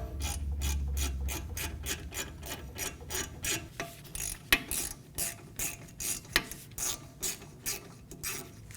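Ratchet wrench snugging down rear brake caliper pins on a 2018-2024 Volkswagen Tiguan, a steady series of close clicking strokes with a low mechanical hum at the start and no talk.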